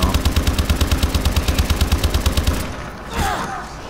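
Rapid automatic gunfire in a Call of Duty Zombies match rattles out as a loud, steady burst of close shots for about two and a half seconds, then cuts off and leaves a brief echoing tail.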